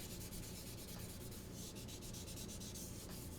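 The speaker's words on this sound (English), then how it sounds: "you're cutting through your primer and you're sanding it good." Close, steady rubbing and scraping of sandpaper on primer over a plastic scale model, continuous and even throughout with no voices.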